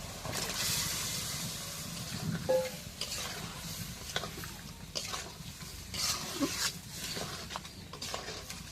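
Small tangra fish go into a pan of cooked spice paste for a potato and eggplant curry, giving a continuous moderate sizzle and bubbling hiss with occasional stirring scrapes and clicks.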